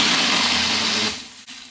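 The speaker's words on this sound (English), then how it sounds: "So now we're gonna put it on to the Ninja blender." Ninja blender whirring through a frozen drink for a Frappuccino, loud steady motor roar that cuts off after about a second, followed by a short rattle as it winds down.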